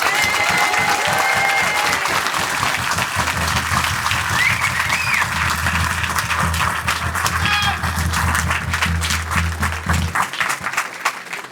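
A carnival crowd applauds Sébastien Lefebvre at a Fort-Mardick induction ceremony, with sustained, dense clapping lasting about ten seconds and scattered cheers over it before it thins out at the end.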